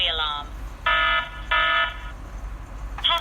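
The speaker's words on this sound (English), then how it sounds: "If you look at the burglary status alarm. here, you see that it is triggered." A Hikvision wireless intrusion alarm system panel sounds a burglary alarm, giving repeated loud electronic beeps in short bursts separated by pauses, with a constant low hum underneath.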